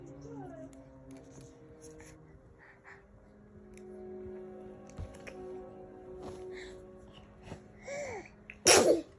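A baby sneezes once, sharp and close, near the end, after a stretch of quiet rustling and soft babbling during a tug-of-war game.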